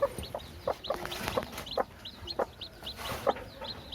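A Kairali hen with her chicks gives a run of soft, evenly spaced clucks, about eight short calls close by in a quiet setting.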